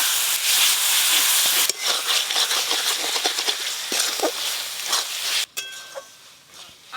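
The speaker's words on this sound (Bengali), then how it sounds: "এবার গুঁড়ো মশলা দেবো, জিরে গুঁড়ো, লঙ্কা গুঁড়ো, টমেটো কুচি, অল্প লবণ, অল্প একটু জল দেবো।" Spiced onion, ginger and garlic masala with ground cumin, chilli powder, chopped tomato and salt hisses and sizzles loudly in a pan after a splash of water, a steady steamy hiss that briefly cuts out and then returns more quietly.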